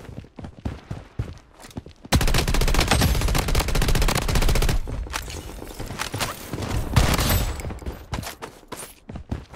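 Rapid automatic gunfire in the shooter game Blood Strike, including the Vector and KAG 6 weapons. Sparse shots give way to a dense, loud, continuous burst that eases briefly and then surges again, with no talk over it.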